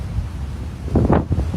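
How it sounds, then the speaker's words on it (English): Strong wind buffets a microphone outdoors near water in winter, a low continuous rumble that swells into heavier gusts toward the end, with no speech. "It's very windy."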